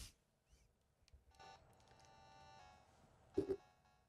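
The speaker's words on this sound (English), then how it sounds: "Okay, I guess I'll make a phone call." Phone dialing tones in a comedy sketch: a short series of beeps and a sustained tone, followed by a louder double burst near the end, all fairly quiet.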